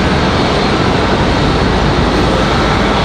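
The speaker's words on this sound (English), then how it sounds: "This is going to be a CRJ coming in from JFK" CRJ regional jet arriving from JFK at Raleigh-Durham airport, a steady loud broadband engine roar filling the whole clip without letup, close and unbroken, with no voices.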